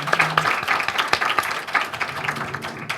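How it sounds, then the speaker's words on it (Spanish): Applause from a small audience at a university literature colloquium honoring speakers and moderators, close, distinct handclaps in an irregular scattered rhythm, fairly loud and alone. "les quiero pedir un gran aplauso para nuestras ponentes y nuestras moderadoras"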